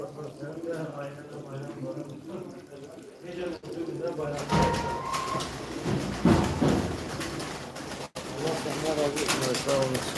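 Pigeons coo softly in the background at a festival-time loft, with someone talking over them for most of the stretch.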